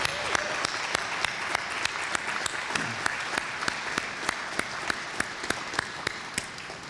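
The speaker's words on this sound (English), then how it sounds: "everyone, please give them another round of applause as they make their way out this evening" An audience applauds the Spirit Nation Singers at a city address event. Sustained crowd clapping runs throughout, with sharp, evenly spaced claps punching through in a regular rhythm.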